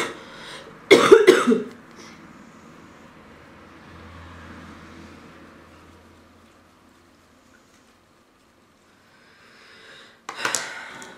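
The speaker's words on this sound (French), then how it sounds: "ça arrive à tout le monde de tousser." A woman coughs, a sharp close burst of two or three harsh coughs, then quiet room tone with a faint low rumble, and a second short cough near the end.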